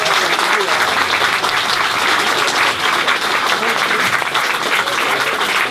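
An audience applauds at a photo exhibition, steady dense clapping from a sizable crowd that stays loud and even for the whole stretch without a pause.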